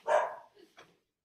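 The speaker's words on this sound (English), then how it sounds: "One of our dogs barking in the back there." A dog barks once in the background, a single short bark followed by a couple of faint trailing yips, then quiet.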